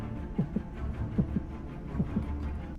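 A heartbeat sound effect from the Star Wars Imperial Assault board game app plays three slow, evenly spaced lub-dub double thumps, low and soft over a faint hum.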